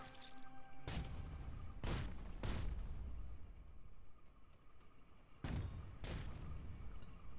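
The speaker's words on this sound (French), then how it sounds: "Ah, ça tire en haut." Scattered gunfire in the survival game The Front, a few broadband bursts spread out across the stretch, some clustered in quick pairs, at moderate level with no voices.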